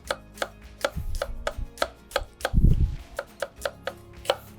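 A knife chopping onions on a board while preparing kinilaw, about a dozen crisp, evenly spaced taps close up with one heavier thump in the middle, and no voices.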